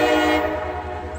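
Horn of a new CSX freight locomotive sounding for an intersection: a loud, nearby chord that holds for a moment and then drops away into the steady low rumble of the passing train.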